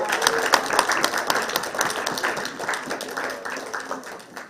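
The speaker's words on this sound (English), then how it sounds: "Put a hand and clap for her." An audience claps at a Ugandan parliamentary forum launch on ending child marriage and teenage pregnancy, a steady patter of hands lasting the whole stretch and slowly thinning, with some voices mixed underneath.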